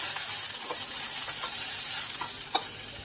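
Eggplant slices sizzle steadily in hot oil in a pan as they are lifted out, a constant bright frying hiss with a few soft scraping and clinking touches from the utensil, no voices.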